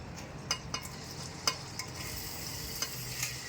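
Onions fry in oil in a pan for beef vindaloo with a constant soft sizzle, while a spoon stirs them and scrapes the pan in several sharp, close clinks.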